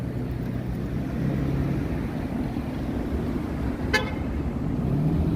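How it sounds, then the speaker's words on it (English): A single short car horn toot sounds partway through, over a steady low rumble of road traffic on a Toronto street. "Why are you honking?"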